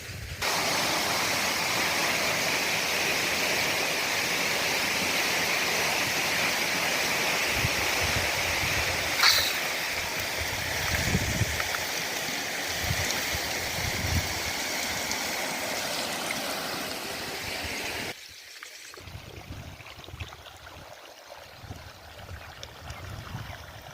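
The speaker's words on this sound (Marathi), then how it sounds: "पाणी भरून घ्यायचं आहे सर्व वाफ्यांना" Irrigation water pours steadily into prepared field beds planted with groundnut seed, a continuous close rushing and gurgling flow that softens a little toward the end.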